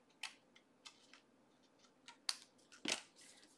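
Scissors snip off excess cardstock while a handmade Father's Day card is assembled, giving a few soft, close cuts and paper rustles in a quiet space.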